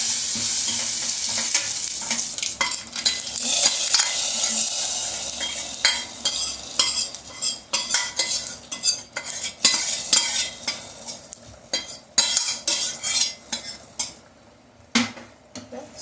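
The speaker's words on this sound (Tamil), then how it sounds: "எண்ணெய் நல்லா காஞ்சிருச்சு. இப்போ எடுத்து வச்சுருக்க எல்லா பொருளையும் போட்டு வதக்கிட்டு" Ingredients sizzle in hot oil while a utensil scrapes and stirs the pan in irregular bursts, close and fairly quiet, with no talking, while making bottle gourd kootu.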